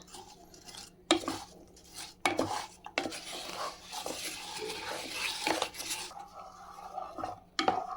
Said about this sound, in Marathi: आता हे गूळ आपल्याला वितळून घ्यायचं आहे आणि याच्यात आपण थोडंसं पाणी घालू